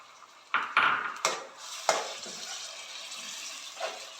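Tomato puree added to fried onions in a pan in a kitchen, giving a few sharp clanks and scrapes of a utensil against the pan, then a soft wet sizzle fading under quieter clinks.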